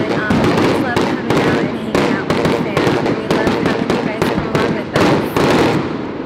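Fireworks burst during a 4th of July celebration, loud and close, with rapid crackling bangs repeating in steady volleys while people talk underneath.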